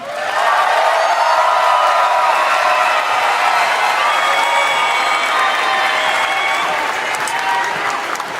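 A large crowd at the Miss Universe 2022 preliminary competition applauds and cheers the pageant organization's new owner, a loud, steady roar of clapping holding for several seconds.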